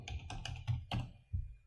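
Several crisp, close keystrokes on a computer keyboard as a URL is typed into a browser, tapping in a quick, uneven rhythm before fading into quiet.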